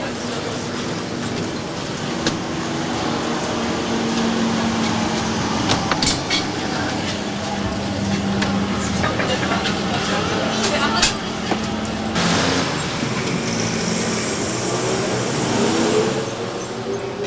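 Trolley bus in the Russian city of Kostroma, its motor humming with steady tonal whine and traffic noise around it, a continuous near drone with passing vehicle sounds and someone talking over it.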